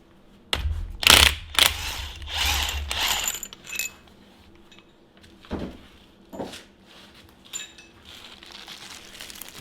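A ratchet fitting a new crank bolt on a 2.4 Ecotec engine from a 2012 Equinox, with a few quick clicking ratchet strokes and metallic handling noises early on, then scattered softer clicks and clunks in a quiet shop.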